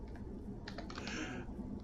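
Someone types on a computer keyboard, a short, quiet cluster of close key clicks over faint room noise; no talking.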